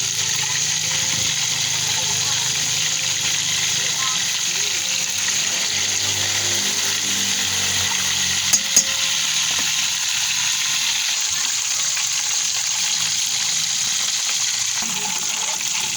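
Chicken frying in oil, home-cooked fried chicken with no added chemicals, makes a loud, constant close sizzle that barely varies over the whole stretch, with a couple of tiny clicks partway through and no talking.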